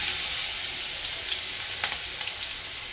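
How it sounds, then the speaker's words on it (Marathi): A tempering of hot oil with cumin, mustard seeds, green chilli and garlic sizzles steadily up close, a continuous bright hiss with a few faint pops and light stirs, no voices. "तर आता भाजीला फोडणी देऊन घेते."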